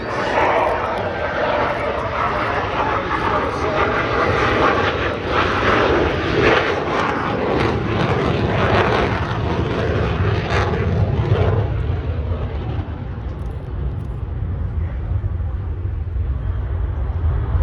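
Fixed-wing aircraft engine roaring overhead at an air show, a loud sustained drone that swells and then fades and thins toward the end.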